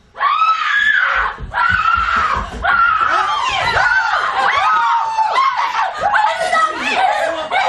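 A woman screams loudly in repeated long, wavering shrieks with brief breaks between them, close and dominant throughout.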